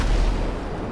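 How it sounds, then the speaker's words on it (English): Explosions in the video game GTA Online rumble as deep, booming bursts that fill the short moment, fairly loud and with no voices over them. "I hear explosions."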